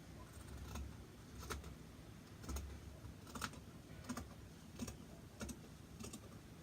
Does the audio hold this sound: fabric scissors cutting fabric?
yes